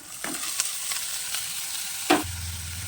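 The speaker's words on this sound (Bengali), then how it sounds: "আদা বাটা দিয়েও কিন্তু বেশ কিছুক্ষণ ভেজে নেব" Ginger paste frying in a pan, a bright steady sizzle with a few spatula scrapes and one louder stir near the end, with no speech.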